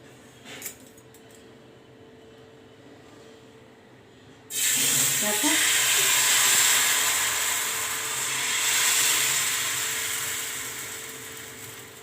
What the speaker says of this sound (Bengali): এবার আমি একটা করে ভাজবো